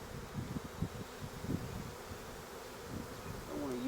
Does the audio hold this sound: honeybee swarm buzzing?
yes